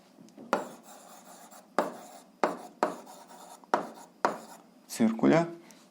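A pen scratches across paper in short, repeated strokes during an eighth-grade algebra exercise, each stroke close and distinct with pauses between, and a voice briefly speaks near the end.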